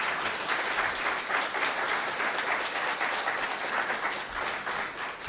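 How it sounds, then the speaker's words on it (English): Sustained audience applause for a history lecture speaker, dense even clapping from a crowd that holds steady throughout without talk. "Let's give Dr. Ford another round of applause."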